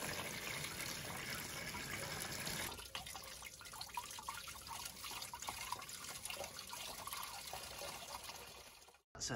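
Old coolant water running out of a car pipe into a bucket during a Triumph Roadster restoration, a steady close splashing trickle that shifts to a lighter, dripping flow partway through before cutting off briefly near the end.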